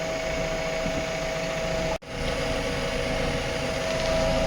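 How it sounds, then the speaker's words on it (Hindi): A tractor engine runs at a village site where soil is dug for brickmaking, a steady droning hum with a brief dropout midway, then resuming evenly. "ये देखा ट्रैक्टर लगा थे"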